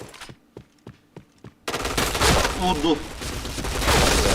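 Gunfire in the video game PointBlank: a handful of sharp, evenly spaced shots, then a loud sustained burst of automatic fire with a brief spoken exclamation over it.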